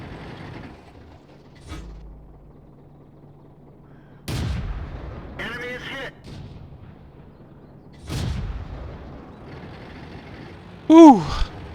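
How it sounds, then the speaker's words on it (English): Tank cannon fire in World of Tanks, a Churchill VII in battle: several separate heavy booms spaced seconds apart, each with a rumbling decay, alongside mechanical clanks and reload sounds. "Fired hundreds of rounds there."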